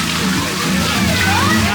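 Water sloshing and splashing at the Moana Journey of Water attraction at Epcot, a steady close wash of water running throughout with people talking over it.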